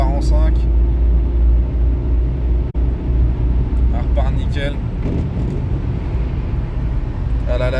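Car engine revved at full throttle, a loud sustained roar from inside the vehicle with a brief dip partway through, while someone talks over it.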